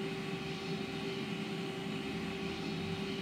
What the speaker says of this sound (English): Now we're gonna wait for the engine to stabilize and for the start switch to go back to the off position.